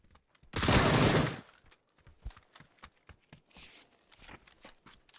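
Gunfire in a first-person shooter video game: one long, loud burst of sustained automatic fire, followed by scattered fainter clicks, thuds and taps.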